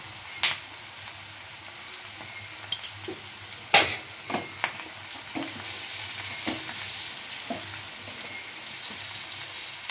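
Stirring and frying Kolkata-style chilli bhetki fish in a pan: a steady hissing sizzle with sharp scraping knocks from the spoon against the pan, loudest near the start and then settling into a continuous fry.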